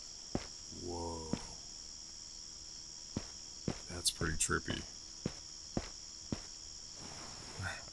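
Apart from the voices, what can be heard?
crickets chirping in evening ambience, video game Backrooms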